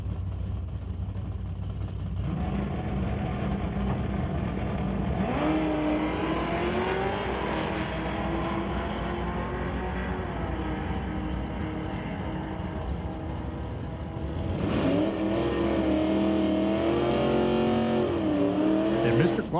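Drag race cars, a small Plymouth Scamp or Dodge Dart Swinger against a Mustang, roar down the strip with sustained engine noise and rising revs, while a commentator talks over the racket.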